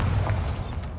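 Bombarda spell detonation in Hogwarts Legacy: a heavy, low thudding blast with a short rumbling tail, loud and close.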